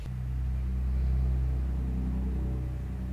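A deep, steady engine rumble drones continuously, heavy and low, like a large vehicle idling nearby.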